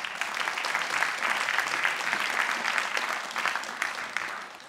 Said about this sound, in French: On vous applaudit aussi.